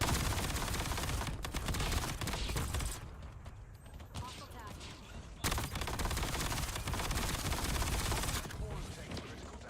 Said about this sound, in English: I'll just shoot the shit out of that.